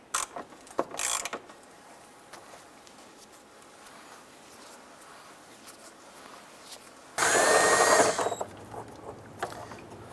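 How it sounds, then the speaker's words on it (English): A ratchet with a 3/8-inch socket loosens the bolt holding the washer fluid expansion tank on a 2002-2008 Dodge Ram 1500. A few faint ticks come first, then a loud, brief burst of rapid ratcheting near the end. "Using our 3/8 socket, we're going to go ahead and loosen and remove this bolt holding our expansion tank."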